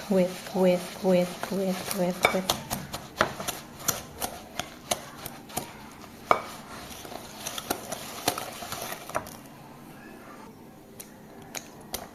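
A whisk taps and scrapes in a bowl of burnt basque cheesecake batter with vanilla and salt, a string of quick irregular clicks and clatters, with a voice talking briefly at the start.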